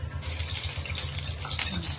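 Water splashes and patters steadily for a couple of seconds, a close, hissing spray without pause.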